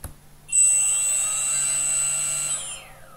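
Motor B of a Pixhawk 6C hexacopter running ArduPilot spins up in a Mission Planner motor test at 5% throttle. A steady, fairly loud whine starts abruptly, holds for about two seconds, then falls away as the motor winds down.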